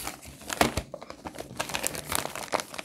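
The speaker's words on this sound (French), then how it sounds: "on va ouvrir le paquet." A Christmas present is unwrapped at close range, with busy crinkling and rustling of wrapping paper and a few sharper tearing bursts coming in uneven clusters.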